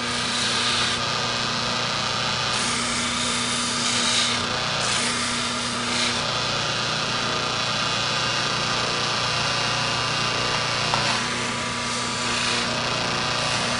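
A curved horseshoer's hoof knife is pressed against a spinning buffer wheel, a continuous loud motor drone with brighter rasping swells each time the blade touches the wheel.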